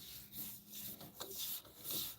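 Block of wax rolled and rubbed around a wooden piece before sanding, a soft continuous scraping rub with slight rhythmic swells, faint and close with no talk.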